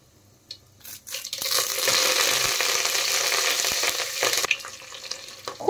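Curry leaves and whole garam masala (cardamom, cloves, cinnamon, peppercorns, black cardamom) hit hot oil for tomato pulao, bursting into a loud, close crackling sizzle after a quiet start, with sharp pops and spatters throughout and no talking.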